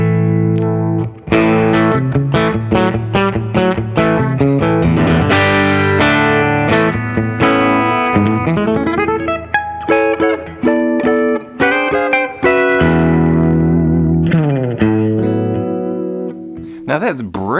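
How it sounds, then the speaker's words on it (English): Electric guitar with a P90 pickup in the bridge position, played clean: a run of picked notes and chords ringing loudly through the whole stretch, with no talking over it. "I have this guitar with a P90, and a P90 in the bridge is a good sound too."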